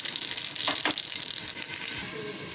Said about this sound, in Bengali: ফোড়নে দিচ্ছি রাঁধুনি একটু